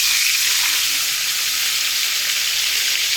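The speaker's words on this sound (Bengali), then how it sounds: "গরম তেলের মধ্যে নুন হলুদ মাখিয়ে রাখা মাছগুলো দিয়ে" Fresh pond fish rubbed with salt and turmeric fry in very hot oil, giving a loud, steady, close sizzling hiss that runs unbroken from start to finish with no talk.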